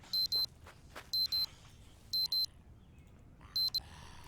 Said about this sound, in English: No need for the alarm, Paddy.